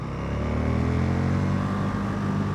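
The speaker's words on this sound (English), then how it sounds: "you just completely twist the throttle open, and then you're going to see what this bike is capable of" A 2016 KTM Super Duke R motorcycle at full throttle gives a loud, steady, close engine roar with a deep, sustained droning tone throughout, and no voices are heard.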